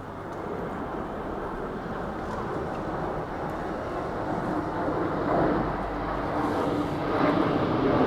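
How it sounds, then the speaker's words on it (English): An airplane passes overhead above Stockport town centre, a steady broad engine roar that swells slightly louder toward the end. "And another plane just before I get in my car and go home."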